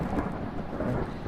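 Deep, rolling thunder in the horror video game Phasmophobia, a continuous low rumble with rain-like hiss that holds steady and loud throughout.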